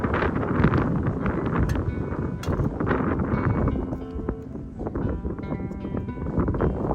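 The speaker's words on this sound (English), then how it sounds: "This wind makes it a lot more challenging" Strong wind buffets the microphone outdoors with a steady roaring rush and gusty swells throughout, while faint knocks and clatter sit underneath.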